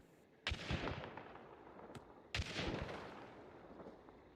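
Two shotgun blasts in a video game, each launching firework-like projectiles, crack out about two seconds apart, each trailing into a crackling, sizzling burst; fairly quiet overall.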